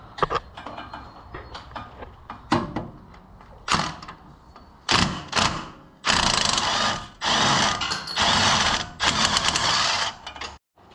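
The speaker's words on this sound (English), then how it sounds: "Next, removing the track bar bolt at the axle." A ratchet works a track bar bolt at the front axle of a Jeep during a Teraflex Sport ST3 suspension lift, with scattered clicks first, then several loud bursts of rapid ratcheting up close.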